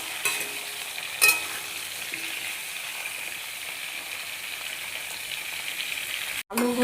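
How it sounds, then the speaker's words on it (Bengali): Potato pieces fry in oil in a pan, a steady close sizzle running throughout with a couple of brief scraping knocks from stirring and a short break near the end. "এবার আলুগুলো আমি ভেজে নেব,"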